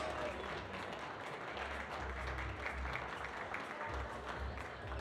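Crowd applause at a youth bouldering finals for under-17 and under-19 climbers at a European Youth Cup in Graz, Austria, steady clapping spread through a fairly faint, roomy hall.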